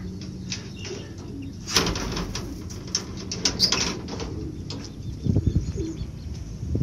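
A pigeon flying in the open outside a rooftop loft, with soft wing flaps and a few coos and chirps against steady outdoor background noise, irregular and moderately distant.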